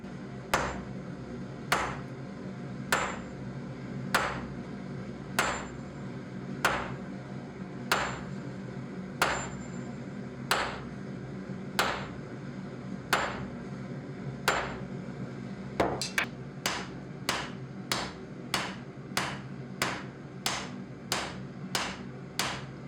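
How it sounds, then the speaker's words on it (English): A hammer strikes a round steel puck being forged into a kitchen knife, sounding as sharp ringing blows at a steady pace of roughly one every one to two seconds, then quickening into rapid even strikes near the end. "the circular cross-section makes it very resistant to hammer strikes"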